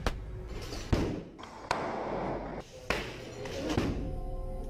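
Stun grenades going off during a police tactical unit's inter-agency training exercise, giving sharp, loud thuds at intervals amid echoing noise and some indistinct voices.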